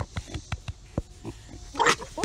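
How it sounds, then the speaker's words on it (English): Racing pigs grunt and oink in short, close bursts on a small farm with a chicken coop, a scatter of snorts followed by a louder squealing grunt near the end. "what we got here is some racing pigs"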